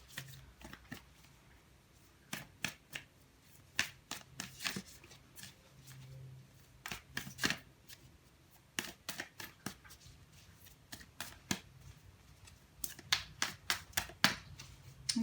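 Moonology oracle cards being shuffled by hand, bursts of crisp riffling clicks and slaps in irregular clusters, close and fairly quiet, with no talking.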